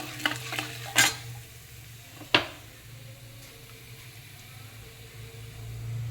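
Whole urad dal and a piece of asafoetida fry in a pan for hotel-style kara chutney, giving a soft, steady sizzle with a couple of sharp stirring clacks early on.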